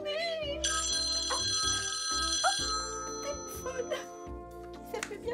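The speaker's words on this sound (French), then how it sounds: "Téléphone." A telephone rings with repeated electronic bell tones over background music, and a voice speaks briefly near the end.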